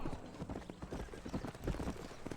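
Rhythmic hoof clip-clop of a horse galloping in the Red Dead Redemption video game, steady and fairly close, with a brief whinny and faint background noise.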